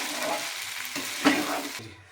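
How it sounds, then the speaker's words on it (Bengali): Rice and lentils for vegetable khichuri sizzle as they fry in a pan. The hiss is steady and close, with a firm stir scraping midway, then it fades out abruptly. "খুব ভালোভাবে ভাজা হয়ে গেছে চাল ডালটা।"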